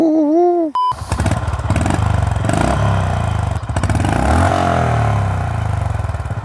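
A Honda CB350RS motorcycle engine starts up after a brief beep, then runs loud and close with a steady, throbbing idle and a few revs, continuing without speech.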